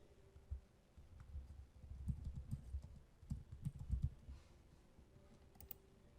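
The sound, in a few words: typing a file name on computer keyboard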